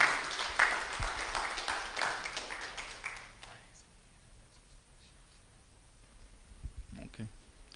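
A burst of clapping from a church congregation, fairly faint and distant, fades out after a few seconds, leaving quiet room noise with scattered taps.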